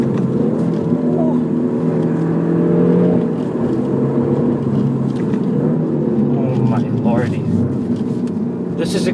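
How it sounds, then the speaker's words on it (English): A Peugeot 308 GTi accelerating hard down a street, heard from inside: a steady loud engine drone with rising whine and road roar throughout, with a voice talking over it. "And now down the street, the car is absolutely flying."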